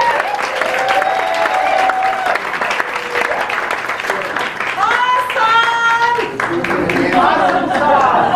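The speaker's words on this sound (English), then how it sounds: "Please give a round of applause." Audience at a live belly dance show breaks into sustained applause, a dense wash of clapping with some cheering, while a host speaks over it.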